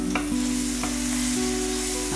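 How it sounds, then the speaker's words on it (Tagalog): Pork sizzles steadily in a pan as bottled shrimp paste is stirred in for Bicol Express, with a few sharp spoon scrapes against the metal over a constant frying hiss and a low steady hum. "Igisa po lang natin mabuti. Maglagay na rin ako ng bagoong na alamang."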